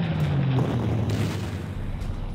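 Artillery fire in the Panzer Corps strategy game during Operation Barbarossa, a deep booming rumble that swells and fades over a couple of seconds with low sustained thunder, with no voices.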